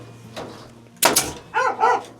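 A dog barks a few times nearby in short, sharp bursts over a low, steady hum, at a chicken coop while a staple gun is in use.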